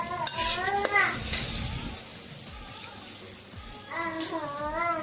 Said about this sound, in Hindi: मात्र तड़का बस लगाए हूँ अभी।